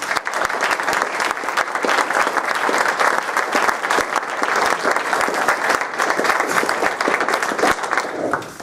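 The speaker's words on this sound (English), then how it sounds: "let's give a big round of applause" Sustained audience applause fills a forum hall, dense and steady from start to finish with no pauses.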